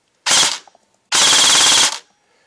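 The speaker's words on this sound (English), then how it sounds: "if I hold down the trigger, it goes to full auto." A custom G&P M4 stubby airsoft rifle on a 7.4 volt battery firing, a short full-auto burst followed by a longer sustained burst of rapid mechanical clacking, loud and close with silence between.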